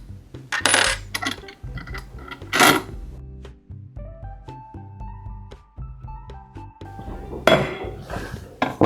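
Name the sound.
metal bolts and nuts being removed from a rotary spreader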